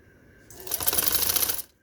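A sewing machine stitches piping onto a kurta neckline, a single loud, close, rapid burst of running needle clatter lasting about a second before stopping.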